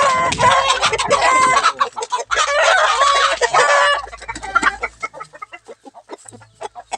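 Chickens on a farm cluck loudly and a rooster crows close by in long drawn-out calls, followed by a string of short, sharp clucks that gradually thin out.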